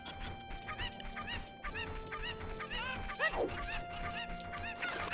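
Cuckoo chickens in The Legend of Zelda: Ocarina of Time, set in Kakariko Village, clucking in a repeated series of short calls over game music, with no talk.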